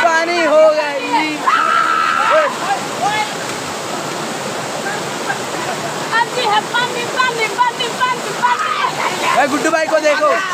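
Water splashes and rushes steadily at Belu Ghat, a riverside spot on a day trip, with loud shouting and excited voices over the constant flow.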